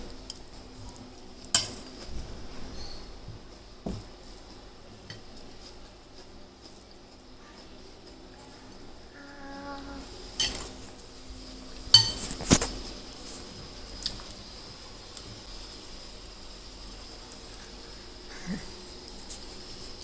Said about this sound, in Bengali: আমি বড় চামচ দিয়েই খাই